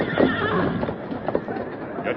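A horse neighs in a 1946 Lone Ranger radio drama, a loud whinny near the start over clip-clopping hooves, with voices speaking under it.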